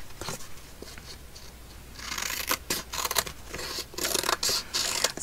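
Scissors trimming excess paper for handmade ephemera, heard as close, crisp snipping and rasping cuts that come in quick bursts, growing denser and louder toward the end, with no talk.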